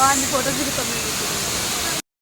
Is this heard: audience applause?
no